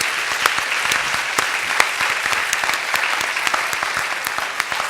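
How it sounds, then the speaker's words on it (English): Sustained applause from an audience, dense steady clapping with occasional louder claps standing out, continuing throughout. "Please join me in an applause for the speakers."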